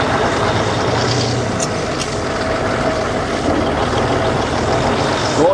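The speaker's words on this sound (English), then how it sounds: "More trucks coming in." Heavy trucks rumble in and idle at a busy wheat harvest site, a steady loud diesel drone with a brief air-brake hiss and engine rise near the end, no talking.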